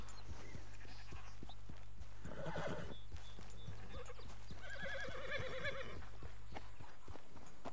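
Horse in a PS4 cowboy video game whinnies and neighs in two clear bursts while hooves clop steadily throughout, set over a low constant game hum.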